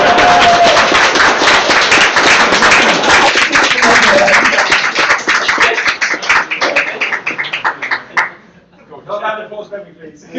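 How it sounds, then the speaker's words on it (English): Audience applause fills a town hall meeting of a London gaming community, dense steady clapping for about eight seconds that thins out and stops, followed by a brief quieter stretch at the end. "Not that applause for me, please."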